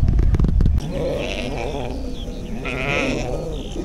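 A sheep bleats twice nearby, wavering calls after a brief burst of noise, with no talking.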